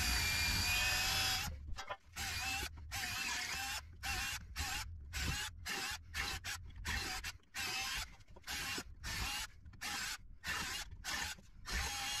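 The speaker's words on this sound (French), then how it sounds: "détruire le silent block à l'aide d'une perceuse" An electric drill bores through a car suspension silent block, a gritty high whine broken into many short bursts as the trigger is repeatedly released and pressed again, with brief silences between the runs.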